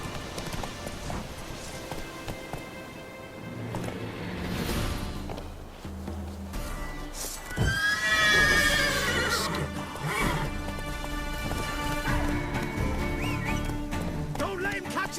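Geralt's horse Roach in The Witcher 3 gallops with steady clip-clop hoofbeats and lets out a loud, shrill neigh midway, over a bed of game music.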